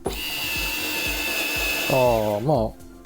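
Bosch GO3 electric screwdriver fitted with a drill bit, whirring steadily up close with a rhythmic ticking, then rising into a louder, strained pitch-bending whine as it bites into the material before stopping.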